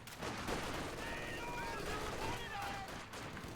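Gunfire in a Company of Heroes match between Soviet conscripts and opposing infantry, heard as a dense crackle of rifle and machine-gun shots under continuous battle noise, moderately loud, with a commentator talking over it.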